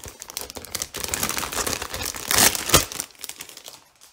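Plastic packaging around group photocards crinkles and crumples steadily up close, with a louder burst of crackling midway before fading out.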